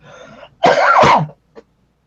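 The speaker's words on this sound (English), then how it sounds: "Excuse me while I cough." A single harsh, throaty cough close to the microphone, followed by a quiet pause and a tiny sound.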